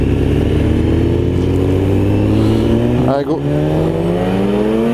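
A BMW S1000 RR sport motorcycle accelerates hard on a public road, its loud engine note climbing steadily in pitch through the gears with a brief dip at a shift, while a voice speaks briefly over it.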